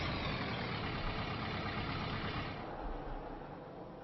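A tractor engine idles with a steady low rumble in Farming Simulator 25, loud and constant, then eases to a slightly quieter, duller drone partway through.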